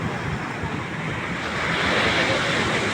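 Sea waves washing ashore at Liliw beach in San Felipe, Zambales, a broad continuous surf roar mixed with wind buffeting the microphone, swelling louder in the second half.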